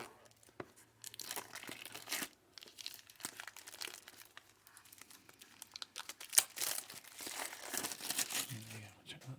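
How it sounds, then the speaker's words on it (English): Cellophane wrap is torn and peeled off a Lord of the Rings tarot deck box, making crinkling and crackling noises that come and go for several seconds, close and fairly quiet. "So let's get the cellophane off."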